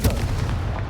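A Confringo blasting spell detonates in Hogwarts Legacy, one heavy booming burst with a rumbling, slowly fading tail.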